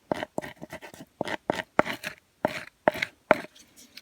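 Repeated scraping strokes of a fleshing tool pulling flesh off a fish skin during hide tanning, a dozen short rasping bursts in an uneven rhythm, close and fairly quiet, with no talk.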